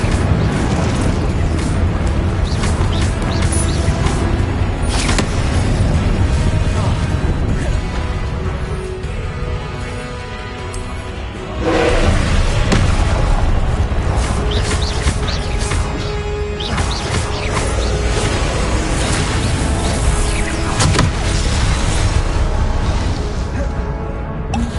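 A fire spell blasts out repeatedly during Hogwarts Legacy combat, with loud booming bursts over a continuous dense game soundscape of music and effects, one especially heavy burst near the middle.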